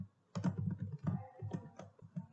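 Keys being typed on a computer keyboard while coding in Flutter, a close, fairly steady run of soft clicks in short bursts with brief pauses between them.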